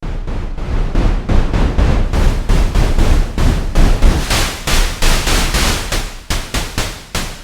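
Noise generator on a Behringer 2600 synthesizer set to brown noise, playing as a loud, broadband hiss that pulses in rapid, evenly chopped rhythmic bursts throughout.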